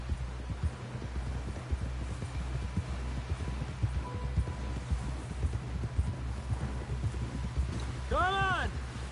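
Horse hooves clip-clop in a steady rhythm in the Red Dead Redemption 2 video game, close and continuous over a low rumble. A short whinny-like tone rises near the end.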